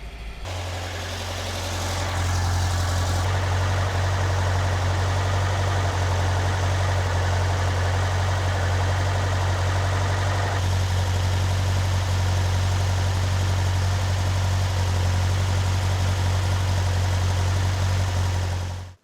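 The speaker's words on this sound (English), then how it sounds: "I had it set up to like 1500 RPM and the engine was running pretty smoothly" A car engine fitted with Weber 40 IDF dual carburetors idles steadily at about 1500 RPM, running smoothly with a deep constant hum and no voices over it.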